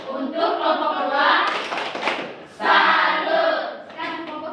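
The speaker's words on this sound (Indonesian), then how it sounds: "Oke, tepuk salut untuk kelompok 2." A school class claps a rhythmic chant-style salute for a classmates' group, with voices chanting along in bursts between patterned hand claps, close and loud.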